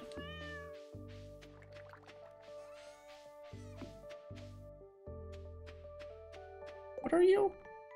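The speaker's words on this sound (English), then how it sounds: "Say hello to our kitty." A cat meows in the Stardew Valley video game on a farm, a short bright call near the end over soft, sustained game music tones.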